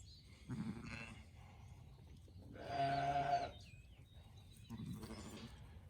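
Sheep bleat during lambing season, with ewes and lambs heard a few at a time. A short call comes early, a louder drawn-out bleat follows near the middle, and another call sounds toward the end, all fairly close and alone.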